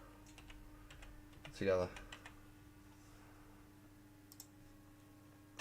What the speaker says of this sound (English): I can just start typing that in eventually.